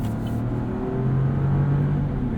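A 2024 Buick Envista Sport Touring's turbocharged three-cylinder engine pulls up to speed, giving a steady low drone with rising tonal lines heard from inside the cabin, with no talking.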